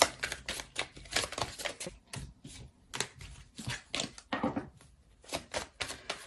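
Tarot cards are handled and laid down in a quick series of crisp slaps and flicks, close and fairly soft, in an uneven rhythm with short pauses.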